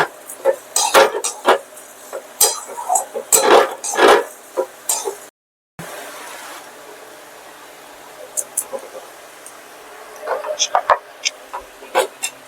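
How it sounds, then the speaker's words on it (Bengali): Sugar being stirred into chhena in a pan for mango sandesh: irregular scraping and clinking of a utensil against the pan, in busy bursts with a brief silent gap, then sparser taps. "অনবরত নাড়তে হবে এটাকে, এভাবে অনবরত এটাকে নাড়িয়ে যেতে হবে"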